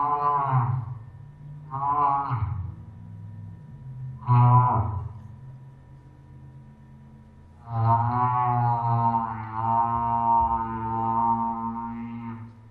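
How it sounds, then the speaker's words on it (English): A humpback whale sings a series of low, moaning calls: two short groans, a pause, then one long drawn-out wail that sounds almost like mooing. "often play these sounds to little kids and they say it either sounds like mooing cows"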